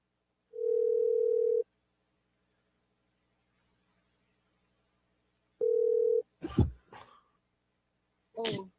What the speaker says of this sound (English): Let me call Gilbert back